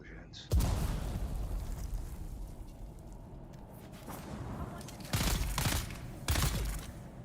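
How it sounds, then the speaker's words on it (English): Explosions rip through a Dune video game battle, a sharp blast followed by rumbling bursts and two more loud booming detonations close by, each trailing into a roar of debris. "Explosions."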